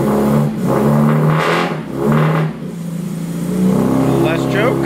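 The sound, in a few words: Mini Cooper S Mk 1 engine running on first start-up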